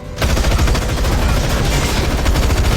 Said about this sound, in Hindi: तभी पैट्रिक ने सीधे एक भारी बंदूक उठाई और उन लोगों पर अंधाधुंध फायरिंग शुरू कर दी